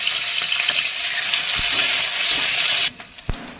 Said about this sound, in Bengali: দেখো আমাদের ডিমগুলো বেশ ভালোভাবেই দু পিঠ ভাজা হয়ে গেছে